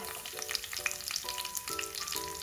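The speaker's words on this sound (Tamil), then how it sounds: "நான் என்ன செய்ய போறேன்னா இந்த வெட்டி வச்சிருக்கிற உள்ளிய போட போறேன்." Chopped garlic hits hot sesame oil in a pan while cooking an anchovy masala curry, giving a steady, close, loud sizzle and crackle throughout with faint tonal hum behind it and no talking.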